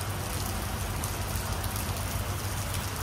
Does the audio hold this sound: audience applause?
no